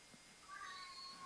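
A cat gives a single drawn-out meow with a rising, wavering tone, faint and somewhat distant against quiet room noise, with no talk.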